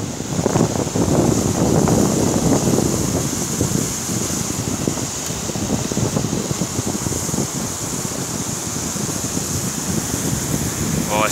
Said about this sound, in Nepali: भयंकर चिसो हावा भयो है